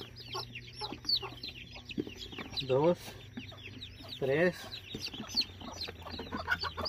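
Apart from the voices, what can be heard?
hen clucking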